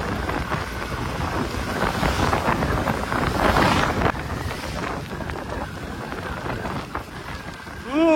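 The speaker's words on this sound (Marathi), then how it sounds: "पाऊस चालू झाला." Rain patters steadily while wind buffets the microphone in gusts during a TVS motorcycle ride through Tamhini Ghat, a rough, rushing wash of sound that swells midway and eases toward the end.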